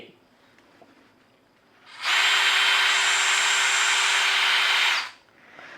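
A DeWalt 20V cordless drill motor whirs at a steady high pitch for about three seconds, then winds down, with quiet room sound before and after.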